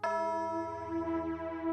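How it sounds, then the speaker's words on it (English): A single clock bell strikes once and rings out in a long, clear, sustained tone that slowly fades. "As the bell sounded the hour"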